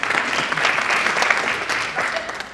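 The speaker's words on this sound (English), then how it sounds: "So give yourself a round of applause." An audience gives a short round of applause in a room, dense mid-level clapping with a voice faintly underneath.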